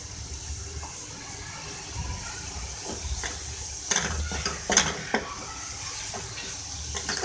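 Chicken with crushed red chilli flakes fries in a pan for Chinese rolls. A low, quiet sizzle runs under intermittent scraping and clinking stirs that grow busier toward the end, with no talking.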